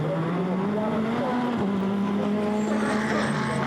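A GT race car at Monza accelerates hard along the straight, its engine note climbing steadily and loudly through the gears with a continuous roar and a brief shift dip.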